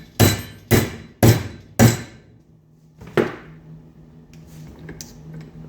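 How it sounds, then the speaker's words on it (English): Four loud, sharp metallic hammer strikes on bent metal held in a vise, in a steady rhythm, then a pause and one more lighter blow, with a faint ringing hum afterward. "and then I'm gonna just hammer it down."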